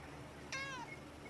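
A pet cat gives a single clear meow, rising then falling in pitch and lasting under half a second, close by against a quiet room background.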